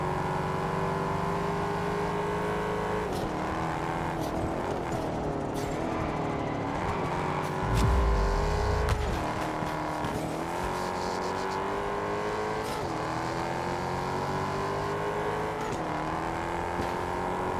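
An upgraded Mustang's racing engine in Test Drive Unlimited Solar Crown revs continuously, its pitch rising and dropping through repeated gear shifts, with a brief low thump partway through as the race goes on.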